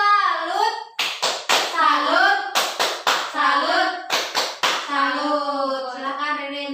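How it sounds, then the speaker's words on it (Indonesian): A class of schoolchildren performs the tepuk salut, a patterned rhythmic clapping routine, as sharp bursts of hand claps in a steady beat alternating with their loud chanting voices. "Kita tepuk salut loh,"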